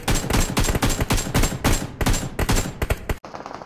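Rapid bursts of gunfire in the battle royale game BGMI during a shotgun-only match, loud and close, a dense string of shots cut off abruptly near the end.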